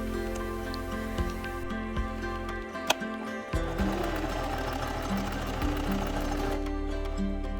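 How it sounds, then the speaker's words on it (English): A sewing machine machine-gathers chemise fabric pieces to fit a yoke, running in a steady, close mechanical whir with rapid needle ticking and a brief pause partway through. "Then I started the process of machine gathering all of my chemise pieces so that they would fit into the yoke"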